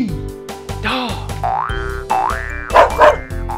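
A cartoonish dog barks a few times over a bouncy music backing with springy boing effects, fairly loud and close.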